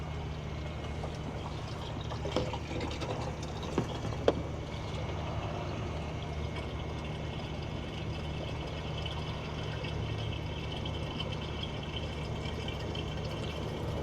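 Steady stream of water from a coin-operated vending machine filling a jug, a continuous low rushing fill with a few faint clicks, no talk.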